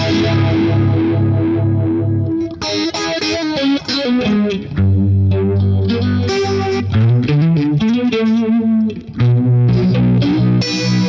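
Electric guitar through a Marshall distortion/overdrive pedal, a bright high-gain treble channel giving loud, dense riffs with sustained chords and quick runs, continuous and close with no talking.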